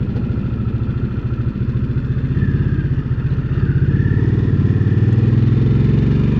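A Harley-Davidson Sportster S with its Revolution Max twin engine rides through town, the engine a loud, close, steady throbbing rumble with a fast pulsing beat that rises slightly toward the end.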